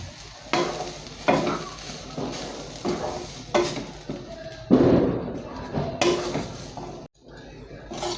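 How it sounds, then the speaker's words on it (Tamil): Okkarai, a Tamil sweet, stirred continuously in a pan, with repeated scraping strokes and soft knocks of the spoon against metal in an uneven rhythm, plus a faint sizzle. "இந்த மாதிரி கை விடாமல் கிண்டினா தான் உதிரி உதிரியாக வரும்"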